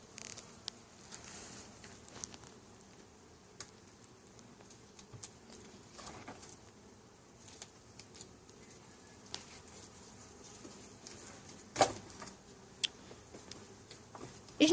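Honey bees buzzing faintly around a hive stocked with capped honey, on a day warm enough for flight but too cool for much foraging. The soft, steady drone holds throughout, with a few sharper taps near the end.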